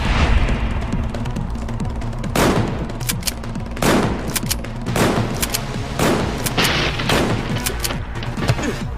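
Gunfire from the video game Final Fantasy X-2: repeated sharp shots and bursts cracking over a dense, loud battle din with music, continuing throughout with no voices.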